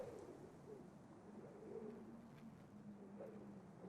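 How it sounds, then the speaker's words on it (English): Bird creatures attack in the digital card game MTG Arena, with faint, soft cooing calls over a low, steady background hum and no talking. "Both birds attack, which is great."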